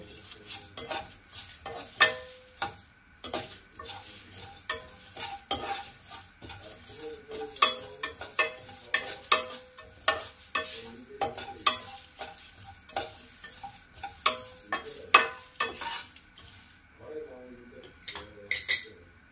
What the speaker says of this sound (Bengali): আর ছোট এলাচ, দিয়ে এটাকে আমি একদম ড্রাই রোস্ট করে নেব।